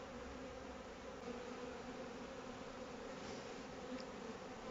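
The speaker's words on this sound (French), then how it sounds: "je vais mettre quelques abeilles vers l'entrée de manière à amorcer la montée de l'essaim." A steady, low buzzing of a honeybee swarm hums continuously and fairly softly, with no voices.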